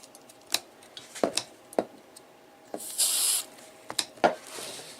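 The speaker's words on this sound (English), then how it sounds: "that clicking noise should stop that you hear." Sharp intermittent clicks from the relay contacts of a Ford F-150 horn that keeps honking by itself, several irregular taps close by with a brief hissing burst midway, no talk.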